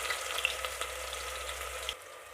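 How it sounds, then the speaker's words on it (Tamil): Three large chopped onions frying in hot oil for a mutton curry, a steady close crackling sizzle with small pops, briefly dipping quieter near the end. "இப்போ இந்த வெங்காயத்தை நல்லா வதக்கிக்கிறலாம்."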